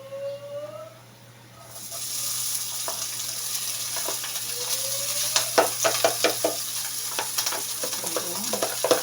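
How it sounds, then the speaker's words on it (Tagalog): Cooked rice going into a hot pan for fried rice makes a quiet first moment, then a loud, steady sizzle with repeated scraping stir strokes and clatters that grow busier toward the end. "So, ilalagay na natin yung ating kanin."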